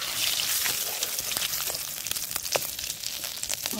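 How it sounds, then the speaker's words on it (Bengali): Cumin seeds, bay leaves and a dried red chili fry in hot oil in a pan, a steady fine crackling sizzle with scattered sharper pops, close but fairly quiet. "ভালো করে ভাজা ভাজা করে নিই।"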